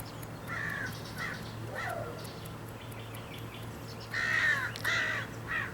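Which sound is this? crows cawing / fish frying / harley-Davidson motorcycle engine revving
crows cawing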